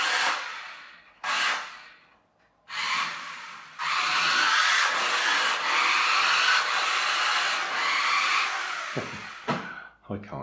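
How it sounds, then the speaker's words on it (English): A New Bright 40 MHz radio-controlled Ferrari Fiorano spins its back wheels, giving a loud, sustained high-pitched motor whine broken into several surges, with short bursts before a long steady run that cuts off near the end. "it's just spinning those back wheels"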